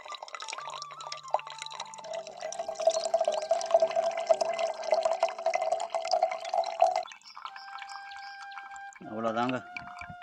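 Water trickles thinly from a low-pressure tap into a bottle, a steady soft run of liquid that stays under a voice talking throughout.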